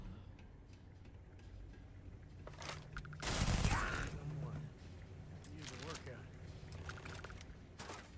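A gun in Starfield fires a dense burst of rapid shots lasting about a second, loud and close, set among quieter game sounds and faint ticking.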